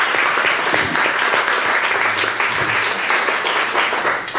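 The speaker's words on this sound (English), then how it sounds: "If you guys wouldn't mind giving them a round of applause as a welcome." Audience applause welcoming new inductees at a Tri-M Music Honor Society induction ceremony, a steady dense wash of many hands clapping throughout, loud and sustained with no break.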